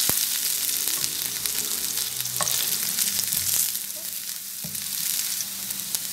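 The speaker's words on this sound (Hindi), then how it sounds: "इसमें हम अपना चॉप्ड लहसुन शामिल करेंगे। इसको हम हिला लेंगे, सिर्फ 1 मिनट हिलाना।" Chopped garlic fries in oil in a wok while being stirred, a continuous close sizzle broken by spatula scrapes and small clacks against the pan, steady and fairly loud, with no talking.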